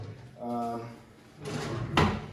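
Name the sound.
kitchen drawer being opened or closed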